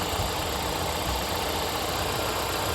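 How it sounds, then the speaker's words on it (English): A 2017 Volvo XC60 engine idles after an oil change with a constant low rumble and mechanical hum, running evenly without revving throughout. "start the engine"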